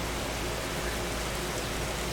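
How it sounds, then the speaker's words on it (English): Steady rain in the video game Naruto: Coalition, a continuous even wash of falling water with no breaks, heard alone at a moderate level. "Oh, why is it raining?"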